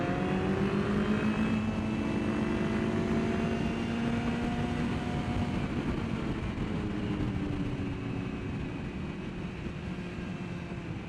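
A Ducati 999R motorcycle engine drones at full throttle on the Thunderhill West track, a steady wind-blasted roar with a rising then sustained engine tone, recorded from the moving bike.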